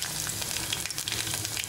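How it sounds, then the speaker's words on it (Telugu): Mustard, cumin, fenugreek and fennel seeds spluttering in hot oil for a tempering, a steady dense crackle with quick bright pops throughout, close and fairly loud, no voices. "అవి కాస్త చిటపటలాడుతున్నప్పుడు"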